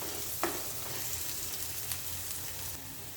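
Green chillies being mixed in a frying pan for a crispy snack make a faint, steady sizzle, with a couple of soft scrapes of the spoon, quiet and without speech.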